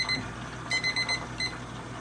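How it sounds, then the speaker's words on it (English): A kitchen timer goes off in a home kitchen, sounding a series of short, high electronic beeps in quick bursts, loud and close, with no one speaking. "That's the timer."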